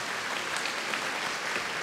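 A school graduation ceremony crowd applauds a student about to speak, a thick, unbroken roar of clapping from many hands, loud and even throughout.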